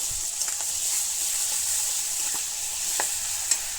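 Onion paste, ginger, garlic and garam masala sauté in a pan of hot oil, with a steady close sizzle broken by a few soft clicks of a spoon stirring.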